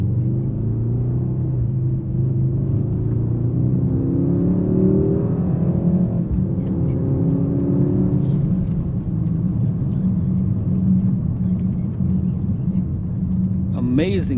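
A 2026 Mercedes-AMG GLE 63 S Coupe engine drones steadily while driving, with a low continuous rumble and gently rising engine tones, plus faint road noise and a brief click near the end.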